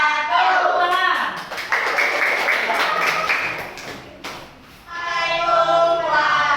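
Audience applause in a classroom teaching-performance presentation, a dense continuous patter of clapping hands that dips briefly near the end before swelling again, with some voices mixed in.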